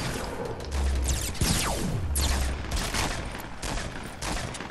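A loud, sustained volley of gunfire rings out in Fortnite, rapid overlapping shots with whooshing sweeps running continuously and no voices.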